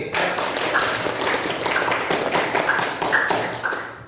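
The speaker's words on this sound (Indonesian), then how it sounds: "Oke, tepuk tangan lagi." A classroom audience of students claps together in a steady, dense patter that continues evenly throughout, filling the room at close range with no talk over it.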